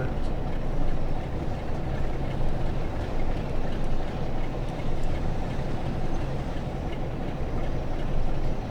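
Class 47 diesel locomotive in Train Sim World 6 running from Shap Summit toward Carlisle New Yard, a dense continuous rumble and rolling rail noise that stays loud and steady throughout with no talking.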